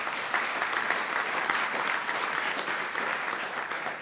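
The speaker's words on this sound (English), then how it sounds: "Let's give a big round of applause for Willem Jan" A conference audience applauds after a talk on Ceph on FreeBSD, a steady, even roll of many hands clapping heard at a moderate distance, sustained throughout without voices.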